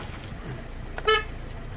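Peugeot 307 car horn: one short, close toot lasting a fraction of a second, set against quiet background noise.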